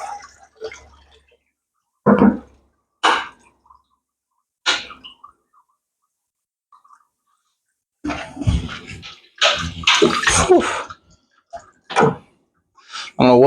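Water splashes and drips in bursts as decorations are pulled from a home fish tank, with a quiet stretch in the middle and a busier run of sloshing and dripping near the end.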